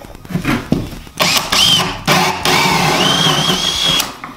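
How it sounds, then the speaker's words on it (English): A power drill bores holes for hot and cold plumbing pipes during a Buteline plumbing system installation, loud whining bursts that stop and restart, speeding up and bogging down as it cuts. "what I'm gonna do now is just drill the holes over there for our hot and cold coming up"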